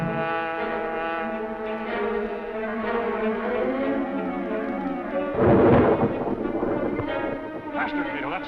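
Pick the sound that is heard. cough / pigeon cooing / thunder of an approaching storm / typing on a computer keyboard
thunder of an approaching storm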